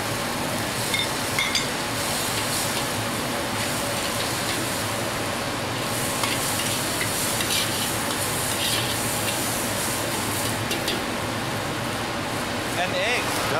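Chopped onion frying and being stirred in a hot pan before seafood and egg are added, giving a steady, close sizzle with scraping stir sounds beneath people talking.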